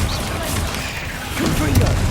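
A Bombarda blasting spell goes off in the Hogwarts Legacy video game, a dull booming impact rising near the end of a short burst amid ongoing game noise.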